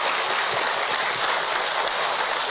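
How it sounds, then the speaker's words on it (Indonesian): An audience at an Indonesian Islamic lecture by Ustadz Hilman Fauzi claps together in a dense, continuous round of applause that stays loud and even throughout. "Tepuk tangan buat ibu yang berkah."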